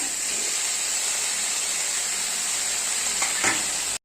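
Drumstick leaves go into a pan of cooked beans, with a steady bright sizzle and hiss throughout, a couple of faint stirring knocks near the end, and then a sudden cutoff.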